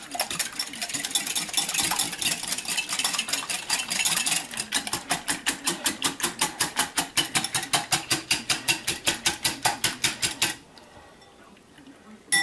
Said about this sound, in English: And then you whisk them together